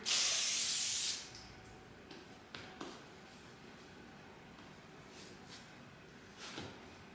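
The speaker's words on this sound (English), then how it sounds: "Spray the counter." A single strong burst of spray hisses for about a second, followed by a quiet room with a few small knocks and taps.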